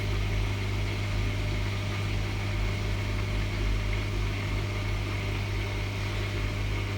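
A Hotpoint HE7L492 washing machine on a cotton standard 20 wash with darks turns its drum at 90 RPM, giving a steady low motor hum with faint broadband whir, continuous and even throughout.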